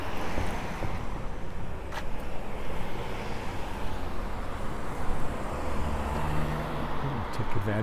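Steady urban traffic on a downtown street in Regina, a continuous broadband wash of car engines and tyres at close to middle distance, with light wind buffeting on the microphone and no clearly separate pass-bys.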